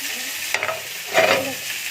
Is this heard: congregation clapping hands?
no